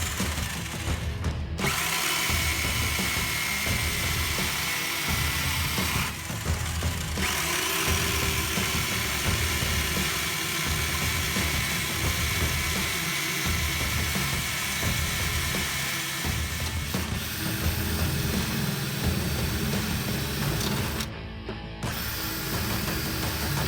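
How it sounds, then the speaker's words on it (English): A power drill bores out spot welds on a classic Mini Cooper Sportspack's battery box, whirring steadily and continuously at close range with short pauses between holes. "Just drilling out the spot welds here."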